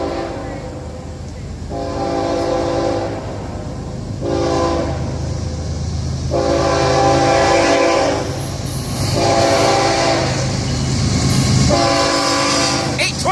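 FEC freight train at a downtown Delray Beach grade crossing, sounding repeated long horn blasts in a steady series over the rumble and clatter of passing cars, loud and close.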